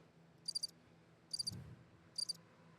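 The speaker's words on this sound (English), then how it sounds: "Crickets." Three short bursts of cricket chirps, each a quick triple trill, repeating at steady intervals against quiet background hiss, with a soft low thump near the middle.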